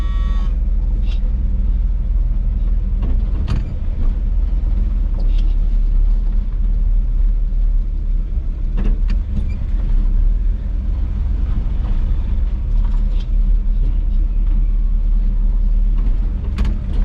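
A 1979 square body short box truck sits with its engine running, a loud, steady low rumble with irregular clanks and ticks layered over it from start to finish.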